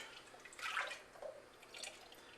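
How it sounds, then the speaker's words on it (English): Custard poured into a homemade ice cream maker makes soft, faint liquid trickles and a couple of gentle splashy pulses, quiet and close, with no talking. "Anyway, you pour your custard,"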